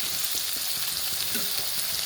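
Curry ingredients seasoned with salt, chili powder and coriander powder fry steadily in a pan for a brinjal gravy, giving a continuous close sizzle with faint stirring, no talking.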